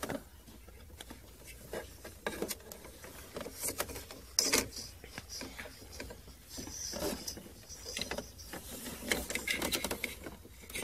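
Dell V515W inkjet printer being opened by hand to remove its print head, giving off a run of close plastic clicks, snaps and rattling knocks in an uneven rhythm, with brief louder cracks at moments and no talking.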